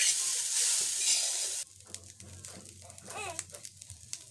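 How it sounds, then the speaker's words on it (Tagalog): Strong sizzling of rice frying into sinangag in a pan in a countryside home kitchen, loud at first then cutting off abruptly, leaving faint clinks, soft stirring and a quiet voice nearby. "after ko magluto ng talong, ay sasangag naman ako ng kanin"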